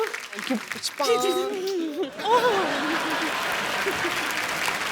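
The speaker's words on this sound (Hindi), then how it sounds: "एक बार हेजल के लिए जोरदार तालियां।" Studio audience applause on The Kapil Sharma Show, a comedy talk show, rising after a brief voiced phrase near the start and continuing as a steady wash of clapping, with a little chuckling and a voice over it.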